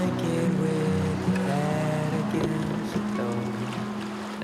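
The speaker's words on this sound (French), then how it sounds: "C'est pas des très gros rapides, mais ça brasse quand même un peu." River rapids in British Columbia churn in a loud, steady rush of water that never lets up, with a low humming tone running underneath.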